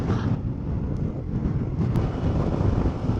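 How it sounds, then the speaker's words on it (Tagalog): Constant heavy, cold wind rumbling against the microphone on a motorcycle ride in Tagaytay, Philippines, a dense low roar that stays steady and fairly loud for the whole stretch. "lakas ng hangin at, at ang lamig-lamig ay sarap-sarap"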